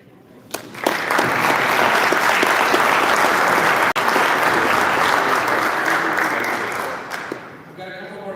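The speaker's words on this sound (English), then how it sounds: "Let's give another huge round of applause for our candidates" Sustained applause from a high school auditorium audience after a Republican primary debate for Oregon governor, a dense steady wash of clapping that swells in and tapers off near the end.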